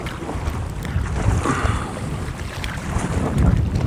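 Gusty headwind buffets the microphone in a constant rough roar during a packraft trip on Norwegian waters, with faint water sloshing underneath and no voices.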